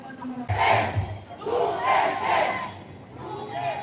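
A large crowd at an outdoor rally for Tatay Digong's birthday celebration roars and chants in loud, rolling waves of massed voices, close and sustained throughout.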